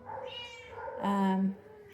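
A cat meows at an animal shelter in its small meet-and-greet room: one close, drawn-out meow that rises into a louder, strained wail.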